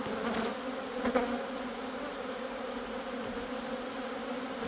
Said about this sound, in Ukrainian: Бджола досить спокійна, ми виводимо самих спокійніших